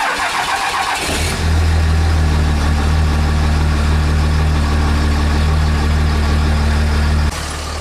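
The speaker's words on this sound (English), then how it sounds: "usually when I start the truck, I let it run for a little bit" A first-generation Dodge Ram truck engine cranks over in the first second, catches, and settles into a steady, loud, close idle that holds with a deep even rumble before dropping off near the end.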